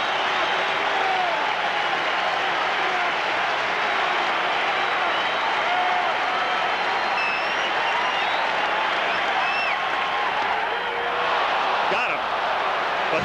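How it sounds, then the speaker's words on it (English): A dense baseball crowd in the video game Beisbol 88 roars and applauds steadily and loudly, filling the whole stretch with continuous cheering while a voice talks over it. "The crowd going wild."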